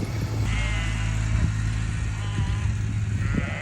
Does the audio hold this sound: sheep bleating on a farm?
yes